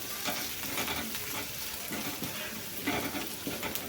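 Onions and vegetables for cauliflower Manchurian sizzle and crackle in a hot pan while being stirred, with repeated scraping strokes over a steady frying hiss.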